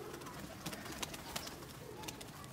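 Pigeons coo softly and briefly over a busy, noisy background.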